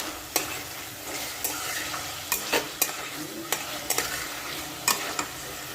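Magur fish fries with spice paste in a pan, a steady sizzle broken by repeated sharp scrapes and knocks of a spatula stirring the mixture, close and fairly loud.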